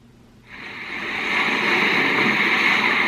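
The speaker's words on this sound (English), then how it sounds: "This is the sound of the ocean." Ocean wave sounds played through a Google Home smart speaker used as a sleep sound machine, a broad steady wash of surf that swells in after half a second and holds a continuous roar, no speech.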